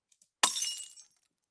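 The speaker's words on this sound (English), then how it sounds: "here's a beer bottle breaking" A beer bottle breaks in one sharp, bright burst of shattering glass, followed by a brief tinkling scatter that fades within about half a second, heard alone.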